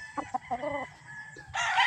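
A gamefowl rooster crows nearby, a short rising call followed by a longer, louder drawn-out crow, with a few clucks before it, on a gamefarm.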